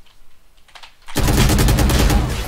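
Rapid gunfire from a Valorant match bursts in after a second of quiet clicks, a loud sustained stream of shots that runs to the end.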